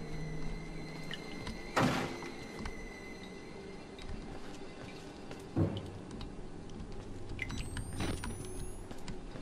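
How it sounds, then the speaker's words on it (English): Heavy banging on a door in the horror video game Outlast, two or three distinct hard thuds spaced a few seconds apart over a dim, rumbling ambient background. "I hear banging on this door."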